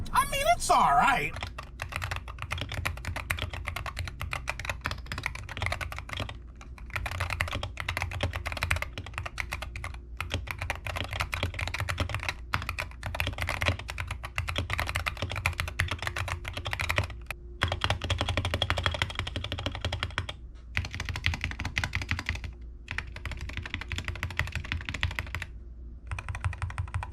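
Steady close-up typing on a Wooting 60HE mechanical gaming keyboard, a dense stream of clicky keystrokes with a few short pauses.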